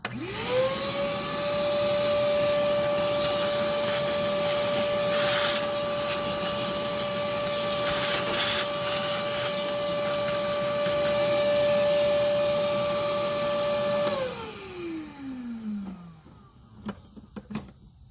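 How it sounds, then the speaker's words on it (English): A vacuum cleaner hums steadily at close range for a long stretch, then switches off and its motor winds down, leaving a few faint clicks. "I'm going to hit that with the vacuum cleaner one more time."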